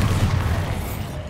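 A Bombarda explosion spell in the video game Hogwarts Legacy, a short, loud, booming blast with a rumbling tail lasting about a second.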